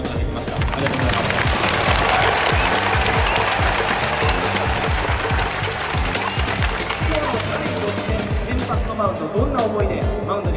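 Spectators at an Orix Buffaloes Japan Series baseball game cheer and applaud, a dense, continuous roar of crowd noise filling the stadium while a voice speaks over it.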